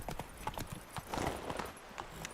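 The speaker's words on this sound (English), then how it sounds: "Slow now. Whoa. I hate this horse." Horse hooves clip-clopping on the ground in The Witcher 3 video game, a steady rapid rhythm of hoof strikes, fairly close and moderately loud, with no talk over them.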